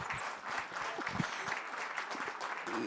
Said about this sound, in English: can we have a big claps for them?